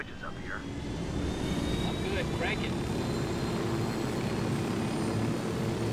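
Helicopter lifting off in the video game Ghost Recon Wildlands, a steady loud rotor and engine roar filling the whole stretch without letup, with faint higher whines drifting over it.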